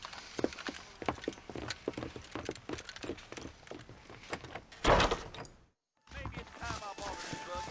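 Horse hooves clip-clop in a steady, fairly close rhythm while riding in the video game Red Dead Redemption, briefly breaking off into silence before resuming.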